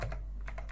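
Quick keystrokes on a computer keyboard while writing SQL code, a few light taps in short succession, faint against a steady low hum.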